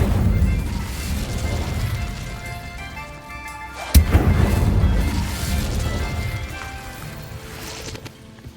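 An Incendio fire spell is cast in Hogwarts Legacy, landing as one sharp, loud crashing burst midway through, with rumbling game ambience before and after and no voices.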